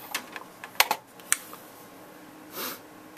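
A few scattered clicks and taps from a computer keyboard of unknown make at a desk, sparse and irregular rather than steady typing, fairly quiet with a soft hiss near the end.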